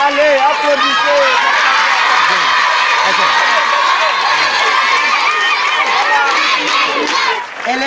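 A crowd of students at a school election result in Senegal cheers, shouts and applauds loudly and continuously, with many children's voices close by.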